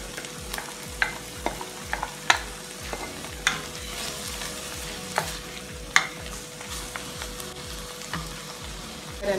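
Saltfish for a plantain-cup filling sizzles steadily in a pan while a utensil stirs it, giving a constant close fry hiss broken by sharp, irregular scrapes and clacks against the pan, with no talking.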